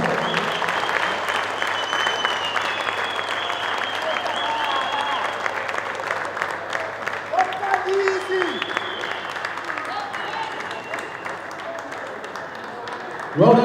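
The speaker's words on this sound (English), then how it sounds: "Let's give them a big round of applause." Steady applause from an indoor futsal league crowd honouring the referees, a dense continuous patter of clapping that holds evenly for the whole stretch, with faint voices beneath.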